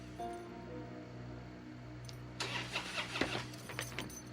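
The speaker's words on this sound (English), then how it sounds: "That night, he couldn't start his car." A car engine cranks without catching late at night, a churning starter burst beginning partway through over a steady low hum, the bursts uneven and moderately loud.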